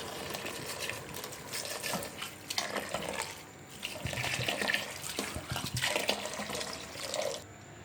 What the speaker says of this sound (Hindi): अब इसके अंदर जो है हम पानी ऐड कर देंगे।